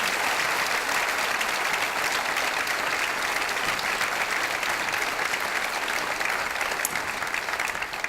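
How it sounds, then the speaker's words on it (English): A concert hall audience applauds a concert choir at a university evening event, sustained and dense clapping close and loud throughout, with no voices over it. "one more round of applause for the wonderful concert choir for the piece of music"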